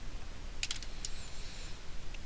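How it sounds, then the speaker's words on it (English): A computer keyboard typing a terminal command, heard as a few quick clustered keystrokes near the mic, then a single later tap, over a quiet room hiss. "So let's type one command"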